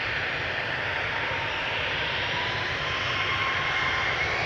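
KLM jet airliner on flight 1041 to Birmingham, taking off from Schiphol's Polderbaan runway, with a steady, loud, close engine roar that holds evenly throughout, broad and continuous with no voices.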